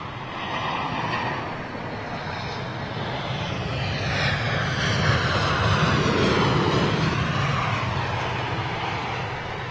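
A British Airways airliner with IAE engines touching down, a broad steady roar of jet engines and rushing air that swells slightly toward the middle and holds, heard from a distance with no talking.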